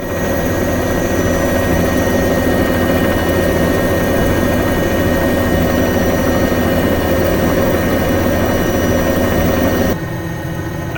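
A simulated Bell 206 turbine helicopter in Microsoft Flight Simulator runs with a loud, steady turbine whine and rotor drone that holds constant for about ten seconds, then drops abruptly to a quieter level near the end, with no talking.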